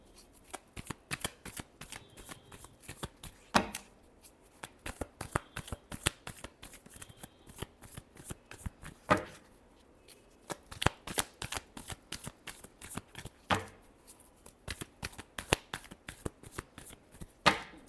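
Tarot cards are shuffled by hand in quick riffling bursts, crisp snapping flurries repeating with short pauses between them, close and clear with no talk.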